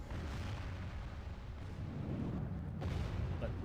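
Cannons firing during a battle in Medieval II, deep booming rumbles rolling continuously in the distance, with a fresh, louder blast near the end.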